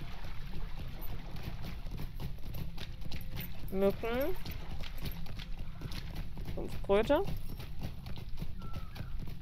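Horse hooves clip-clop steadily under a German-speaking player's voice while riding in Lord of the Rings Online; the rhythmic trotting continues through the whole stretch at moderate volume, mixed with game ambience.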